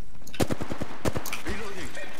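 Gunfire in the video game Apex Legends: quick bursts of sharp, close shots come in two rapid clusters, then a short voice line follows.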